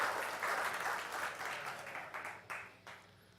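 Audience applause in a church gathering, a moderate wash of clapping in bursts that rises and fades over a few seconds, fairly distant and soft.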